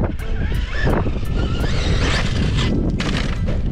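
An electric-converted HPI Baja 5T RC truck on an 8S setup drives hard during an outdoor bash session, its loud broadband motor and tire roar steady throughout, with brief high clicks and bursts of terrain noise.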